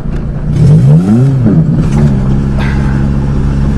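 A 5 speed manual car driven by a 16-year-old learner hums at close range; the engine revs up, then eases back and settles into a steady low drone.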